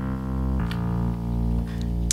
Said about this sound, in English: Then I took the entire sample, played it through an arpeggiator very, very fast.